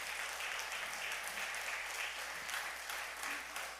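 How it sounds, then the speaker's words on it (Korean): A church congregation claps in steady, continuous applause heard from a distance at low level, with a low hum underneath. "아주 박수 한번 올려줍시다."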